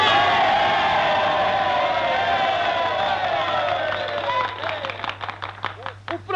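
Enthusiastic applause and cheering from a crowd at a political party's programme presentation, a dense roar of clapping that thins into scattered claps, with voices mixed in.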